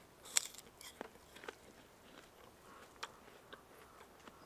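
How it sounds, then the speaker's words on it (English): Close biting into a Mother apple, a sharp crisp crunch followed by several quieter scattered chewing crackles, faint and spaced out with no talk. "I'm going to taste it again. I just want to eat these apples."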